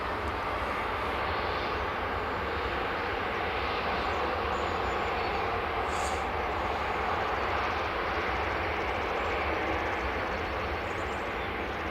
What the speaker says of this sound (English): Air France A220 just taxiing along there.